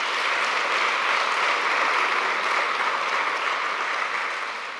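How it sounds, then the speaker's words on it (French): Sustained audience applause at a foundation event honouring its donors during the First Ladies' visit to the Dominique Ouattara Mother-Child Hospital in Bingerville, a dense, even wash of many hands clapping, loud and steady before tapering slightly at the end. "je voudrais qu'on les applaudisse très très fort"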